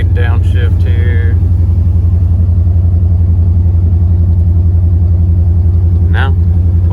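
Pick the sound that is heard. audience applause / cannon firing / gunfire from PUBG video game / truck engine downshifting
truck engine downshifting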